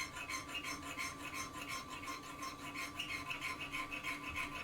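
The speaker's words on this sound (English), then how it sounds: "These chainsaw files are brilliant." A chainsaw file scrapes across a metal crook knife blade in rapid, regular strokes, a close, gritty rasp repeating steadily with a faint ringing tone underneath.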